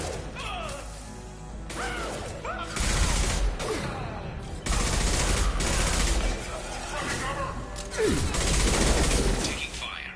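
Gunfire crackles through a firefight in the video game Mass Effect 2, with rapid bursts, heavy impacts and crashes in loud waves, while voices call out over the shooting.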